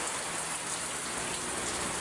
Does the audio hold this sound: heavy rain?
yes